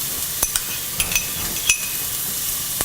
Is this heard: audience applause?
no